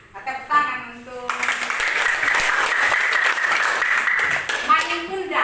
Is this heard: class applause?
yes